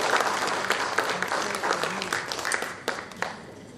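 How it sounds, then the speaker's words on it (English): Audience at a festival inauguration evening in Nagaland applauds the performers, with steady dense clapping running throughout, a few sharper claps standing out near the end. "give another round of applause to all the performers for today"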